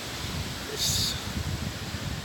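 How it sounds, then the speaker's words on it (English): Wind gusts buffet the microphone outdoors on the South Downs, a steady low rumble with a brief hissy surge midway. "Sorry about the wind."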